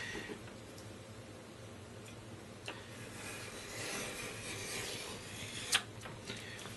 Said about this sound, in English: a preliminary cut there. I didn't go all the way through the leather. It's a little thick.